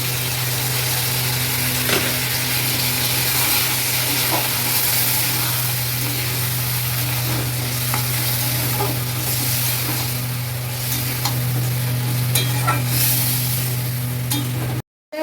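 Pointed gourd and yogurt sautéing in a pan, a loud, constant close sizzle with occasional soft scraping and stirring sounds on top and a steady low hum underneath; no one talks.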